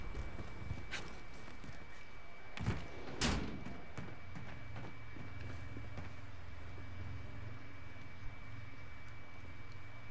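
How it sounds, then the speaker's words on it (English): Footsteps in a video game scuff and thud in an irregular pattern, with a couple of sharper knocks and a faint steady tone behind them. They are moderately close and no voices are heard. "I hear footsteps."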